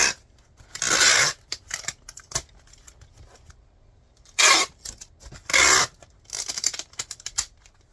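Packing tape pulled off the roll and pressed across a shipping box in several loud, ripping bursts separated by quieter rubbing and handling noise.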